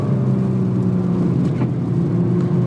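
A 2017 Nissan GT-R accelerating on a wet Spa Francorchamps circuit in the rain, a steady loud engine drone with road and wind roar, heard from inside the car.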